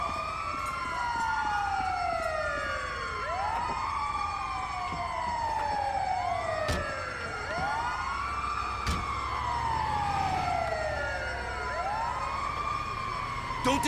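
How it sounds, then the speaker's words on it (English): Overlapping emergency sirens wail continuously in the video game GTA V, with an ambulance siren sweeping up and down loudly and close for the whole stretch, layered with several other siren tones and traffic rumble. "It's the ambulance!"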